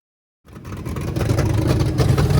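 A bare-bones Ford Mustang Fox body engine catches after silence and settles into a steady, loud running rumble close by, first start in years with power steering being bled; no talk.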